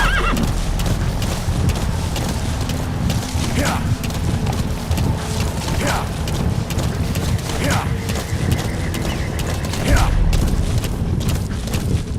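A horse in the Metal Gear Solid V free-roam mode snorts and whinnies several times over a continuous patter of hooves, with game effects and a voice in the background mix.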